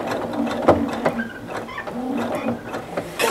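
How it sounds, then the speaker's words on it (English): A sewing machine back-stitches a no-binding placemat with a pocket, making a busy mechanical whirring with rapid repeated needle thumps, close and fairly loud, with a voice faintly underneath. "I'm going to do a few back stitches, and I'm going to tie it off"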